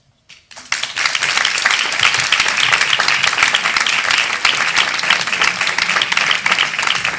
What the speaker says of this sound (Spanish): un fuerte aplauso a José Mayor